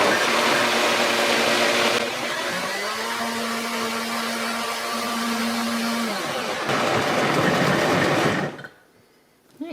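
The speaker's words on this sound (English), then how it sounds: "am going to use my wonderful Blend Tech blender to blend this until smooth" A Blendtec blender whirs through a thick vegan chicken mixture, running loud and steady with a motor tone that shifts partway through, then cuts off abruptly near the end.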